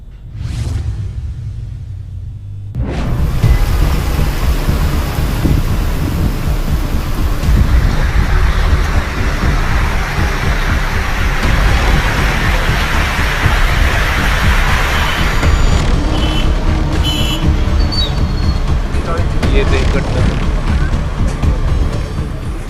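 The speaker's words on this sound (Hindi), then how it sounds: "प्रदेश में तेज बरसात का दौर जारी है।" Heavy monsoon rain pours steadily and loudly over a region of north India, with a dense continuous roar and low rumbling that may be thunder, starting abruptly after a brief quiet moment.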